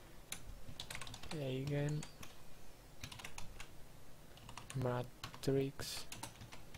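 Keys clatter steadily as someone types C++ code on a computer keyboard, close and fairly quiet, with someone talking over the typing.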